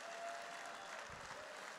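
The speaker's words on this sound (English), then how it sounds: "Give me a round of applause anyway." An audience at a gala dinner claps in steady, even applause, a soft continuous patter heard at some distance.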